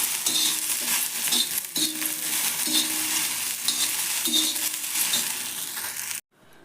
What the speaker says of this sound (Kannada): ನೋಡ್ರಿ, ಈ ಥರ ಹುರಿದಾವ ಹಿಂಗೆ ಹುರಿಬೇಕು ನೋಡ್ರಿ.